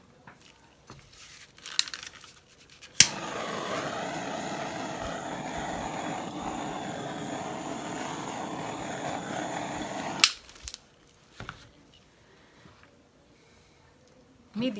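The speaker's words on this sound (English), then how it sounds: "Okay, that's all I'm going to blow with the hair dryer." A hair dryer blows across poured acrylic paint, a steady airy whoosh lasting about seven seconds and then cutting off, with light handling noises around it.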